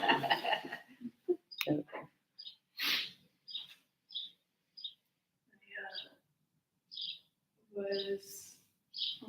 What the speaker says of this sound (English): I think they're talking about our birds